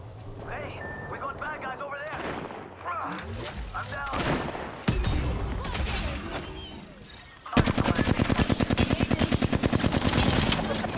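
In an online shooter game, gunfire crackles in bursts, then turns into sustained rapid automatic fire, loud and close, with a voice talking over the earlier part.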